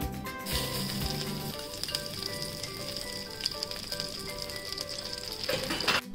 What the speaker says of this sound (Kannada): ಮೊದಲಿಗೆ ಒಂದು ಸ್ವಲ್ಪ ಎಣ್ಣೆ ತಗೋತಾ ಇದ್ದೇನೆ, ಆಮೇಲೆ ಒಂದು ಸ್ವಲ್ಪ ಬೆಣ್ಣೆ